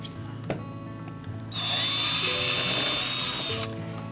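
A power drill backs a screw out of front door hardware, a close whirring burst of about two seconds after a few brief clicks, over a faint background hum.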